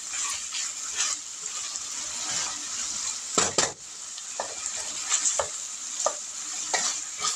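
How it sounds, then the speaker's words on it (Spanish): Sausage sautés in a pan with a constant bright sizzle, joined by repeated utensil scrapes and knocks, one louder clatter midway, close and without talk. "Después que sofreímos la salchicha por 3 o 4 minutos, que la salchicha esté bien sofrita"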